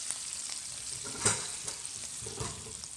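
Defrosted vegan shrimp tossed in a hot pan for a pad thai: a faint, even sizzle with soft scraping and a louder clatter of the pan around the middle, with no voices.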